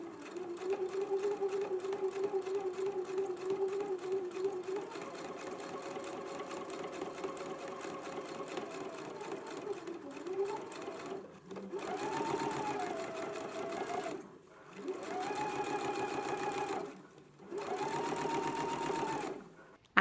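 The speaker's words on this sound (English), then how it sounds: "I have just done my row of edge stitching" Sewing machine running an edgestitch along fabric, a steady mechanical whir near and loud for about eleven seconds, then three shorter bursts separated by brief pauses.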